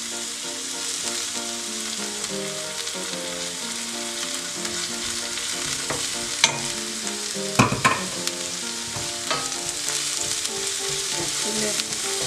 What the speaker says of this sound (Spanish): ya la cebolla ya está sofrita. Ahora le vamos a poner el ajo.